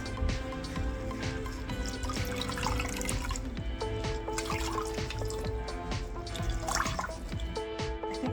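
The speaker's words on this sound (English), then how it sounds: "we obviously don't want them to be soaked, so I'm just gonna squeeze out some of that excess." Soaked handmade arm warmers squeezed out by hand, water dripping and trickling steadily, close and continuous, with occasional small splashes into a sink.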